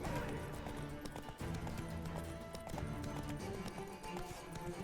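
Horse hooves clip-clop in a quick galloping rhythm in The Witcher 3 video game, against a busy, steady game soundscape with music-like tones underneath.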